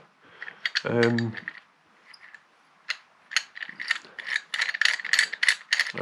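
A cable clamp on a Buttkicker Gamer Pro is adjusted, giving a quick ratcheting burst followed by a run of light clicks and plastic rattles, close and distinct.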